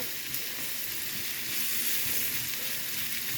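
Sliced mushrooms fry in butter in a pan, giving a steady, close, even sizzle with no talking.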